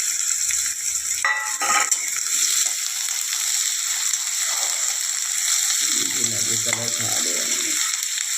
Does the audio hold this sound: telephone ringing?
no